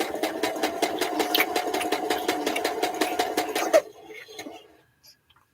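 A sewing machine runs in a steady rapid stitching rhythm through fabric for nearly four seconds, loud and close, then stops, leaving a few faint handling clicks.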